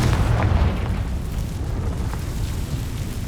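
Explosions from the Bombarda and Confringo blasting spells in Hogwarts Legacy: a heavy booming blast up front that fades into a rumbling, crackling decay, with no talking.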